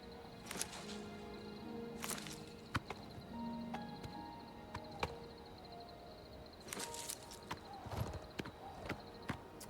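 Horse hooves clip-clop in Elder Scrolls IV: Oblivion Remastered, a series of sharp, fairly quiet hoof strikes spaced irregularly over soft game ambience and faint musical tones.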